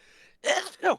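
A single sharp sneeze bursts out after a brief quiet pause, with a second short vocal exhale right behind it, close and fairly loud, heard during a football-picks chat.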